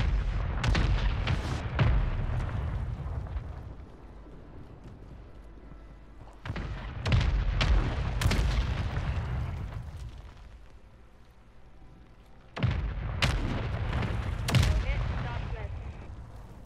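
Grenade blasts and bursts of gunfire in a Call of Duty match, three loud clusters of sharp shots and booms separated by quieter rumbling stretches, with voices talking in between.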